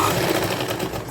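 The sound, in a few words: sewing machine top-stitching a girls' cord set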